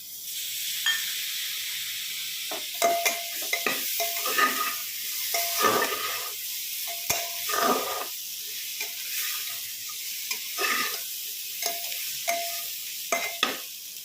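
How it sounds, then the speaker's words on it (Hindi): Finely chopped tomatoes added to spices frying over a medium flame for a dhaba-style aloo palak baingan mooli sabzi: steady sizzling broken by repeated scraping stirs of a spoon in the pan, close and without voices. "अब इसमें बारीक कटे हुए टमाटर को भी ऐड कर लेंगे।"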